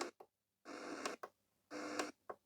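Portable radio being tuned, with bursts of hissy static and short clicks alternating in a choppy on-off rhythm, fairly faint.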